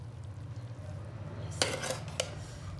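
Chicken biryani being mixed in a heavy cooking pot, a low steady rumble under a few sharp metallic scrapes and clanks of a spoon against the pot near the end, close and fairly quiet.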